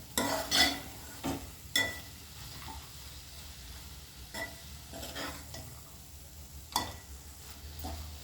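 Spring onions and moong dal frying in a pan, a low sizzle under scattered metallic scrapes and clanks of a spoon stirring, several distinct knocks spread across the stretch.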